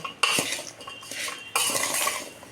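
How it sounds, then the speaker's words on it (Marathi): Pickle pieces are mixed with salt and turmeric in a metal vessel, giving clattering, scraping stirs in two bursts close by, with no talk. "आता हळद मीठ टाकल्यानंतर आपण हे थोडंसं कालवून घ्यायचं"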